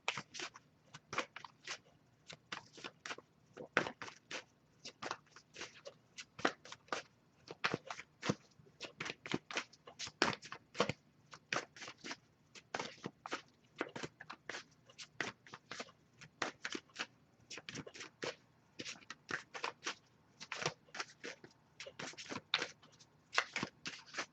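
Oracle cards are shuffled over and over, a steady run of soft, crisp riffling taps close by, quiet and continuous with no talking.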